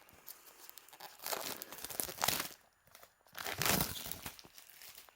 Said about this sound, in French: Donc je vais ouvrir le coffret.